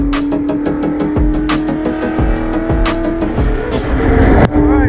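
Nitrous-fed race car engine, without a supercharger, running hard on a dyno: a loud, sustained roaring drone with rapid rhythmic pulsing and steady tonal whine close by throughout.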